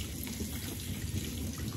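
Tap water runs steadily into a baby's bath, a close, continuous splashing hiss that holds even from start to end with no voices.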